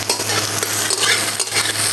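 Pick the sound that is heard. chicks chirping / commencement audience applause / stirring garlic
stirring garlic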